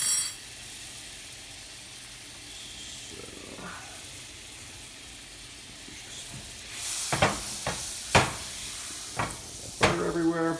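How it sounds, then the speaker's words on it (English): Butter melting in a hot pan before a steak goes on gives a faint, steady sizzle and hiss, followed by several sharp clatters and knocks of a spoon and pan near the end. "So we're gonna let the butter melt a little bit."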